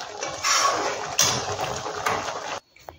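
Cooked chholar dal is tipped from a pan into a bowl, giving a close, steady scraping and clinking of a utensil against metal that stops abruptly near the end.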